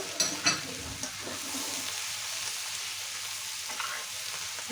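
Onion flowers being stirred into hilsa roe masala in a pan. A soft, even sizzle runs throughout, with a few scraping stirs of the spatula near the start.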